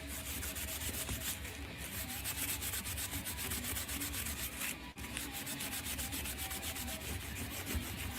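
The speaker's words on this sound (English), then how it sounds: "I'm just going to take a piece of Scotch-Brite and I'm going to scrub it up" A Scotch-Brite pad scrubs scale off a metal part with steady, close, rasping strokes. The harsh rubbing keeps a quick, even rhythm and runs without a break.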